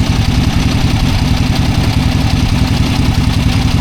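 Harley-Davidson Ironhead XLCH motorcycle engine idling up close, loud and steady, with a rapid lumpy pulse after a throttle-cable adjustment and idle tuning.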